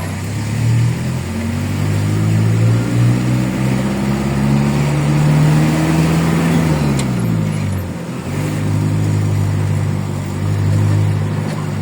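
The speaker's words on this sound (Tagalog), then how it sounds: "Truck ng basura." Garbage truck engine on a busy main road: a loud, low, droning rumble that holds steady, then dips in pitch near the end before settling back, with traffic noise around it.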